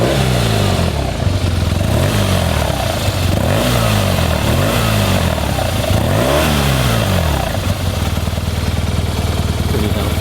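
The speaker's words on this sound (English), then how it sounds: "try and hear the Remus exhaust roar" A 2012 BMW R1200R boxer-twin motorcycle fitted with a Remus aftermarket exhaust, revving repeatedly from idle in loud, close blips that rise and fall in a steady rhythm before settling back to a rumbling idle.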